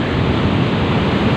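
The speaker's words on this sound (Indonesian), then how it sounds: "Ombaknya gede." Big sea waves break on Karapyak Beach in Pangandaran, West Java, a loud, continuous roaring surf wash filling the whole moment with no pause.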